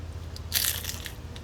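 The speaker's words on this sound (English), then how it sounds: "Hear the crunch?" One sharp, loud crunch of biting into a homemade fried flauta dipped in enchilada sauce, close up and quick in a quiet kitchen.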